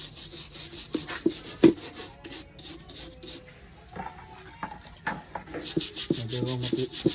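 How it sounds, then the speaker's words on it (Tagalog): A rusty WW2 helmet is scrubbed with repeated abrasive rubbing strokes, close and rhythmic, with short pauses between bursts. "Tapos kuskusin natin."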